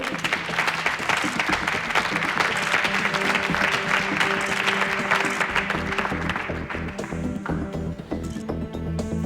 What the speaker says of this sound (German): Aber trotzdem bitte einen großen Applaus für Aline